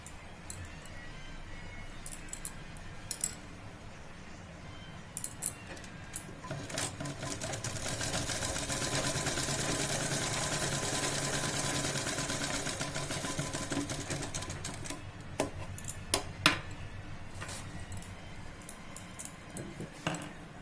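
A sewing machine stitches the pleats on the back panel of a princess-cut blouse, starting with scattered clicks and short bursts, then a sustained close run of stitching before tapering back to intermittent clicks.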